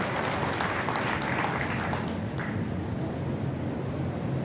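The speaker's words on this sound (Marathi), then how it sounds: "आपणही टाळ्या वाजवून सांगतो." Audience applause at a public rally in Loha: dense, steady clapping from a large crowd that fills the whole stretch, with no voices heard above it.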